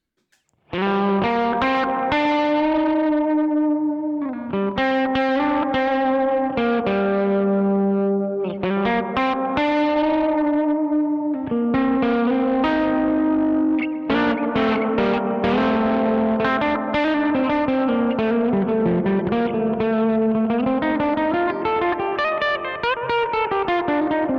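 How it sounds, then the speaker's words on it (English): An electric guitar runs through a pedalboard with gritty, dirty reverb and delay, playing a continuous melodic line with distorted, smeared tails and echoing repeats, loud and alone. "It's kind of a gritty reverb"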